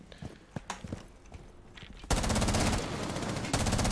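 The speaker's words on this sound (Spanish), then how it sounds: "mira cómo hemos empezado ya a disparar todo" Dense automatic gunfire in Rainbow Six Siege erupts loud and sustained after scattered earlier shots and impacts, continuing steadily to the end.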